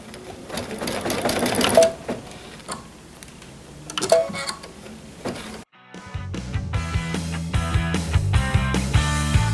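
A Baby Lock sewing machine stitches out a quilting design on a quilt in rapid, steady mechanical chatter, with a short pause before a rhythmic whirring run, close and clear.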